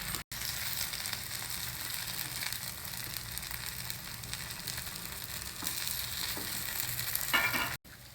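Ragi batter cooks in a covered pan for ragi idli, dosa or paniyaram, giving a steady, even sizzle of frying that holds at a constant level throughout with no talking, broken only by a brief dropout near the start and a small pause at the end.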